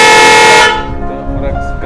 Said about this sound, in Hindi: ये हॉर्न इसका है